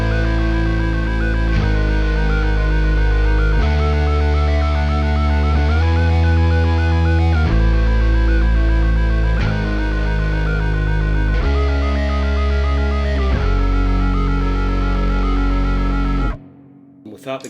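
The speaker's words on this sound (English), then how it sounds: "It's cool when I have the octave and the fifth from the Pitchfork" Bass run through a Pitchfork octave and fifth alongside a C4 arpeggiator, loud and continuous with a rhythmic stepping pattern of layered pitched notes, cutting off abruptly near the end.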